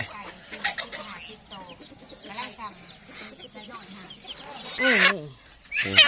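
Egg-laying hens cluck and squawk loudly while being caught, with agitated calls throughout and a sharp burst of alarmed cackling near the end.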